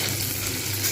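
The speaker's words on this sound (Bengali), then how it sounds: "এবার আমি দিয়ে দেবো পেঁয়াজ। পেঁয়াজগুলো কিন্তু আমাকে সুন্দরভাবে ভেজে নিতে হবে।" Onions frying in plenty of hot oil while a Bengali jackfruit curry is being cooked, a loud, continuous close-up sizzle with no pauses or talk.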